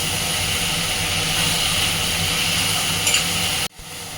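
Mustard seeds spluttering in hot oil with frying fish, a dense steady hiss and crackle that runs continuously, then cuts off abruptly near the end before a quieter sizzle returns.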